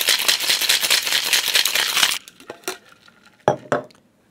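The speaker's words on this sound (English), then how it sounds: "And we'll get rid of that ice." Ice cubes rattle and clink inside a cocktail shaker glass for about two seconds as they are tipped out, followed by a few separate clinks and knocks. The cocktail is a 1930s Prohibition-era drink made with Rhum Barbancourt.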